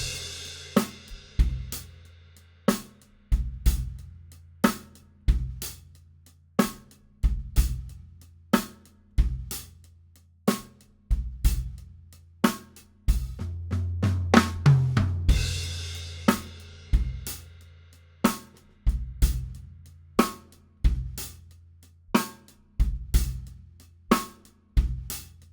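Drum kit playing a 12/8 shuffle groove with a shortened fill, steady punchy kick and snare hits with cymbals, a busier fill near the middle, loud and close with no voices.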